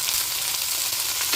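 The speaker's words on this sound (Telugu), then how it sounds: "ఆ నూనెలోనే ఈ మునగాకు కూడా వేసుకొని వేపేసుకుందాం." Moringa (drumstick) leaves fry in hot oil left over from tempering, giving a steady, close, dense sizzle with a crackling hiss throughout and no talking.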